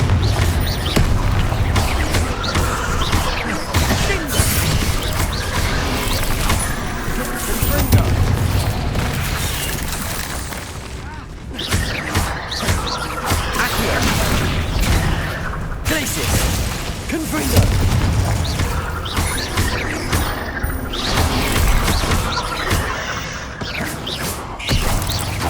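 Confringo fire spells blasting in Hogwarts Legacy, a steady barrage of booms, crashes and shattering impacts layered over game music and effects, with a voice talking throughout.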